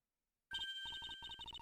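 A cell phone in Ace Attorney Investigations: Miles Edgeworth starts ringing abruptly after silence, a bright electronic ringtone pulsing in quick repeated beeps, clean and alone.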